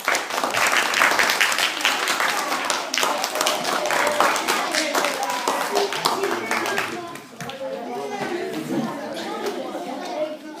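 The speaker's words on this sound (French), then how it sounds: "Vous pouvez vous applaudir." A hall full of children at a USEP Loiret youth general assembly applauding themselves: loud, dense clapping with chatter and cheering, thinning toward the end as voices take over.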